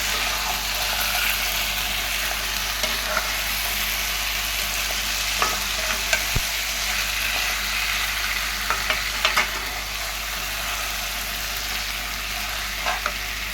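Quail pieces sizzle in a hot pan under constant frying hiss, punctuated by occasional sharp scrapes and knocks of a stirring spoon; no one speaks.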